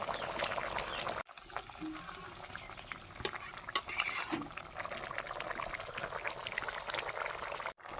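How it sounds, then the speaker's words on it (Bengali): Small fried fish being stirred into a simmering red curry, giving a low, continuous bubbling sizzle with a few soft scrapes and clinks near the pan. "এখানে ঝোল ফুটতে শুরু করেছে এবারে ভেজে রাখা মাছগুলো দিয়ে দেব"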